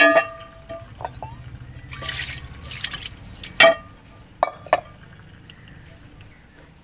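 Water splashing and dripping while an iron dosa tawa is rinsed in a sink, with intermittent splashes and sharp metallic clinks against a quiet, steady background.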